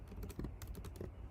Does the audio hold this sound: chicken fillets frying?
no